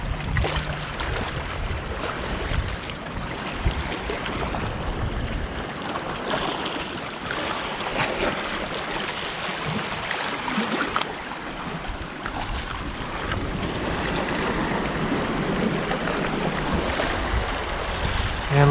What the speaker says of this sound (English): Look at this wild water.